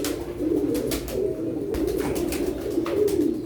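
Pigeons cooing inside a rooftop pigeon box, a close, steady, low throaty warble that runs continuously with soft rolling pulses and no talk.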